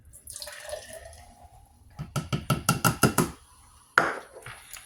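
Fizzy soda pours into a cup in a quick run of rhythmic glugs and splashes, followed by a single sharp splash, close and moderately loud.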